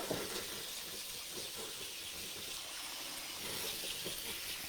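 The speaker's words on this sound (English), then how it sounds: "So just run the cold water over those babies, and then we'll let them drain nicely." Cold tap water pours steadily over cooked rice noodles in a colander, a continuous hissing splash that stays even throughout, with no talking.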